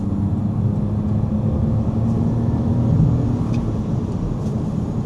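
An old BMW car pulls hard toward the top of third gear, giving a steady, loud engine drone and road rumble that holds at a fairly even level without a break.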